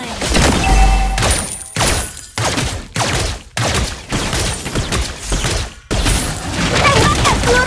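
Layla's golden bullet attacks fire in the mobile game Mobile Legends, a series of loud punchy gunshot blasts with booming low thumps separated by short gaps, layered with game effects.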